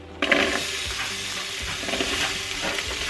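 Onions hitting hot chili-infused olive oil in a Cosori pressure cooker, an abrupt burst of loud sizzle that settles into a dense, steady crackling fry, close up with no voices.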